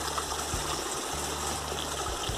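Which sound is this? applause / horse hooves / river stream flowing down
river stream flowing down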